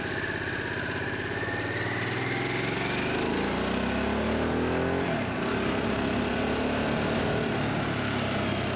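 A Harley-Davidson Sportster S motorcycle engine runs steadily close by, its pitch rising and falling as it revs, loud and continuous with no one talking.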